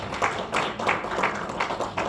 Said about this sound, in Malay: Berikan tepukan sekali lagi.